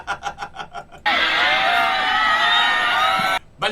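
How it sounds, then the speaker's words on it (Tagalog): A recording of a large crowd shouting in unison plays as a loud, dense wall of voices for a couple of seconds, with someone talking just before and after it. "parang dun sa maraming sigawan magnanakaw, parang mayroon ganun na umiiko eh"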